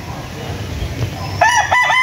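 Chickens on a wide poultry farm raising stags and cocks, with a rooster crowing clearly near the end after a stretch of low farmyard rumble and faint clucking.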